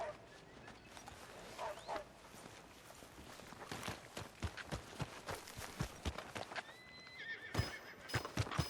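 Horse hooves clip-clop on the ground in Red Dead Redemption 2 and a horse whinnies, with irregular hoof strikes, a clear neigh and a few scattered background sounds.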